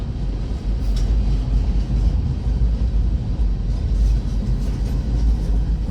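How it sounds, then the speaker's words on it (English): A long freight train rolls past a railroad crossing in Struthers, Ohio, a loud, steady rumble of wheels and cars close by with no break or letup. "I think this is almost the end of the train."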